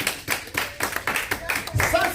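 A church congregation claps to acclaim Jesus, with a quick run of hand claps close by and a voice speaking over them.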